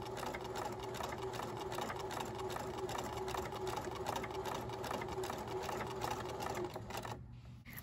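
A sewing machine stitches fabric forward slowly while making a bookmark, with a steady close mechanical whir and rapid needle clatter that runs continuously and then stops abruptly near the end.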